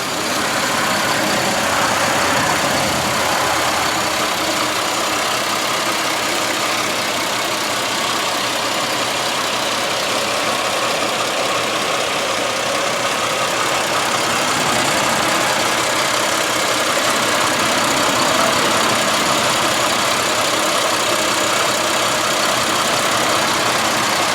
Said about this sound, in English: give you a look around the engine compartment. Let you kind of listen to it as well